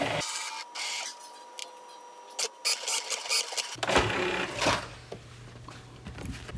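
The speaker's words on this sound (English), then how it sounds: "let's go ahead and put those into our Cricut" A Cricut cutting machine slicing through Infusible Ink sheets, heard as intermittent whirring carriage moves and motor hums with short pauses between passes, fairly close and moderately quiet, with no talking.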